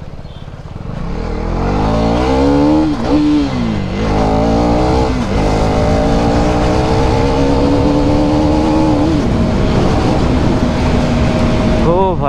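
KTM Duke 250 third-generation motorcycle ridden at full power in the evening, its engine loud and close, revving and climbing through the gears with pitch rising and dropping, a continuous roar throughout.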